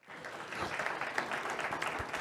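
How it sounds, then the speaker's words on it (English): Steady round of applause from the audience at a school governing board meeting honouring national board teachers, many hands clapping in a dense, even patter that swells quickly and holds. "I want to give them another round of applause."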